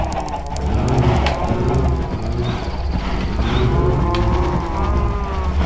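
Cattle lowing in the Craftopia video game, several overlapping deep moos swelling and fading steadily over a constant low farm ambience, loud and close with no talking.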